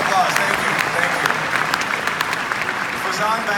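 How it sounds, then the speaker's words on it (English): An audience applauds a speaker at the RIS event, steady dense clapping filling the room at close range without pause. "I will take all of the applause."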